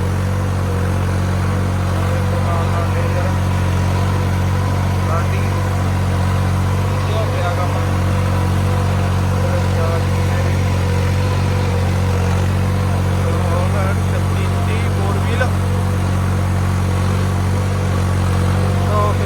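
A tractor engine runs continuously in a farm field, a loud, steady low drone with no breaks, while someone talks over it.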